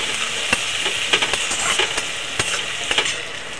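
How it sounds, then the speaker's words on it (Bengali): Onion and tomato fry and get stirred together in a pan, a steady close sizzle broken by repeated sharp scrapes and clicks of the spoon against the pan. "দিয়ে নাড়াচাড়া দিয়ে ভালো করে ভেজে নেবো সব একসাথে করে।"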